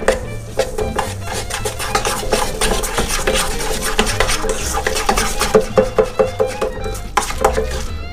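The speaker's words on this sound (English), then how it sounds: "I'll stir this together really well" A white crab lasagna filling is stirred vigorously in a bowl with basil, making close, repeated clinking and scraping of a utensil against the dish in an uneven rhythm.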